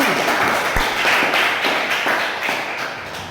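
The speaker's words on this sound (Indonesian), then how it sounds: "Tepuk tangan untuk kelompok 1." An audience of students in a teaching practicum classroom claps for a group, a loud continuous patter of many hands with a few sharper individual claps, tapering slightly near the end.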